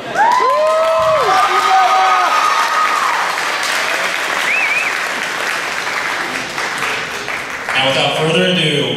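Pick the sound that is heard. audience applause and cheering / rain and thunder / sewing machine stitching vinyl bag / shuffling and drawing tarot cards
audience applause and cheering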